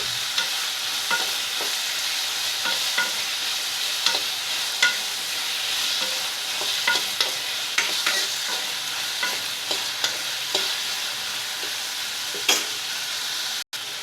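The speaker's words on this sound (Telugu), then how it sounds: "టమాటా పచ్చివాసన పోయినంత వరకు ఫ్రై చేస్తే" Chopped tomatoes frying in a pan for a coriander, tomato and mint chutney, with a steady close sizzle and the regular clicks and scrapes of a spoon stirring, with no voices.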